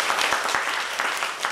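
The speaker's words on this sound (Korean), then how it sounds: "우리 관계자들에게 박수 한번 하십시다" A church congregation claps for the Sunday school staff after a summer Bible school, a steady, dense round of applause filling the room without a break.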